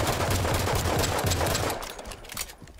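Automatic weapon fire in Halo 5 Guardians, a fast loud string of close shots for about two seconds before trailing off into a couple of fainter pops.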